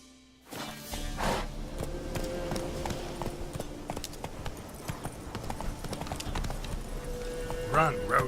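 Horse galloping in The Witcher 3 video game, a steady rapid clip-clop of hooves close up and continuous throughout, with faint whooshing layered over it.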